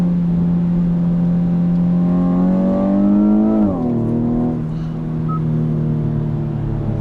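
Hyundai Veloster 1.6 turbo with its active sound generator in extreme mode, a loud synthetic engine drone whose pitch climbs smoothly, dips abruptly, then settles into a steady hum, with no talking.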